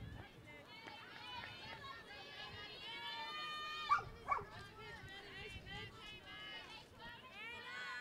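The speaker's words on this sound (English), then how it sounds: "I was having some fun with a dog in the background" A dog barks and yips in the background at a high school softball game between Everett Crimson Tide and Concord-Carlisle, a few sharp barks under continuous play-by-play commentary.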